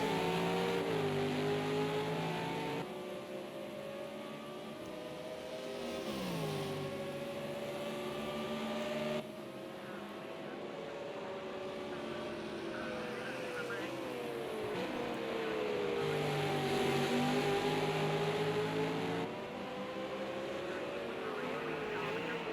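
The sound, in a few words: V8 Supercars racing through circuit at Hockenheim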